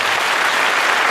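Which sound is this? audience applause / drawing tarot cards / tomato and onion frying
audience applause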